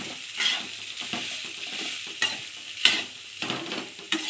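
Rice being stirred in a frying pan over heat, a steady soft sizzle with repeated scraping strokes and occasional sharper clicks of a utensil against the pan, close and fairly quiet, with no voices.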